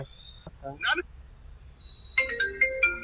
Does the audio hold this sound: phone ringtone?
yes